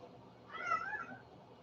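A cat gives a single drawn-out meow, close and clear, rising and falling over about a second against a quiet background.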